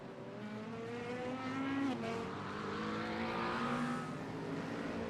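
GT race cars lapping Imola in the iRacing sim, a sustained engine drone with rising and falling harmonic pitch as cars accelerate and shift, steady and loud throughout with no talk.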